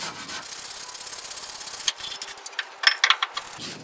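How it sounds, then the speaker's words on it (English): Rust being scrubbed off the caliper mounting area on an 1988 Chevrolet C3500 2WD dually during a brake job: quick close rubbing and scraping strokes, with a few sharp metallic clinks near the end. "you want to make sure that you clean off all the rust where the caliper rides on."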